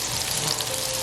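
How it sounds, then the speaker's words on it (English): Chicken tenders frying in melted butter in a pan, a steady close crackling sizzle with dense bright spatter throughout and no talk. "I'm gonna melt down 2 tablespoons of the butter and start cooking up my tenders."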